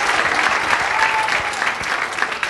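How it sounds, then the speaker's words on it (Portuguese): Loud, dense applause fills a church during an evening women's congress service, the congregation clapping steadily and vigorously without pause. "dê uma salva de palmas mais forte, porque Ele merece nesta noite."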